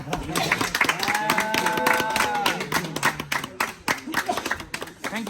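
A group claps hands at Lukla Airport in Nepal, quick uneven rounds of clapping mixed with cheerful voices talking over them, close by.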